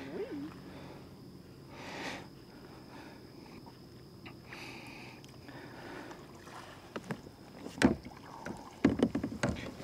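Small kayak sounds on water: soft knocks and creaks of the hull with light splashing as a water snake climbs aboard, growing louder and more frequent near the end.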